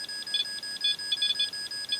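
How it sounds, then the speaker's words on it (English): Electronic beeping in short, bright bursts, some single and some clustered in quick pairs and triplets, repeating irregularly at a moderate distance over a quiet background. "Is that with all that beeping?"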